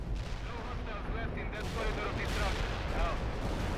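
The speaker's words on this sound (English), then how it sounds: "That was a fairly effective bombing run" Artillery explosions and booming blasts from a bombing run rumble through a World in Conflict: Soviet Assault battle. The blasts come in a dense, continuous barrage, with a voice talking over them.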